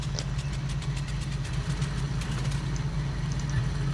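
Left engine of a Ford Trimotor in the MSFS 2020 flight simulator running at idle, a steady low droning rumble with a faint rhythmic ticking pulse, close and unbroken throughout, with no talking.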